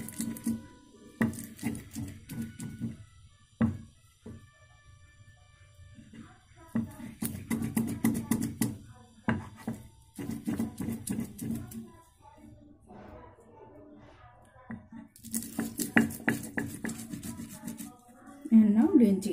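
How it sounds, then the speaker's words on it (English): Amla pieces and garlic cloves pounded and pressed on a stone silbatta grinder, with irregular bursts of thuds and grinding scrapes separated by pauses. "Now I press this amla piece, and now press garlic cloves."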